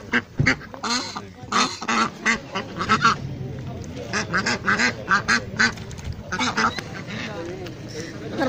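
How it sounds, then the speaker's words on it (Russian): Ducks quack repeatedly in loud, close bursts as they are fed, mixing with people talking nearby. "Ой, утки разгагакали."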